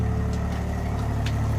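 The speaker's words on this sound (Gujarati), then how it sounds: "આવી ગયો ટ્રેક્ટર" A tractor hauling filling material for a building site rumbles at idle close by, a steady low throbbing engine note that runs unbroken, with faint knocks and clatters on top.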